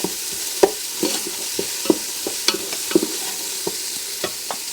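Spanish pork sautés on a hot setting in a Ninja cooker as a utensil stirs and scrapes bits off the base, with a soft constant sizzle under repeated clicky scraping strokes.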